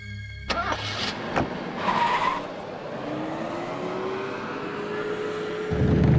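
A car rolls along at night with a steady engine hum, then brakes to a halt near a cremation ground, tyres squealing briefly before the engine settles; no one speaks.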